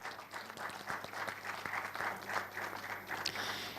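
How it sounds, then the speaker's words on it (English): Applause from a conference audience welcoming a speaker, steady and fairly faint, like a room of listeners clapping at a distance without pause. "let's give a huge round of applause to Kenichiro Sugiya-san"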